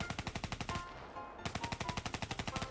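Rapid automatic gunfire in the video game Black Ops III, a fast even rhythm of shots that stops for about half a second before resuming at the same pace, close with no talk.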